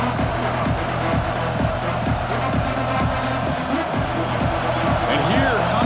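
Steady roar of a large stadium crowd in EA Sports College Football 26, dense and continuous, with faint rhythmic thumps underneath; no clear voices stand out.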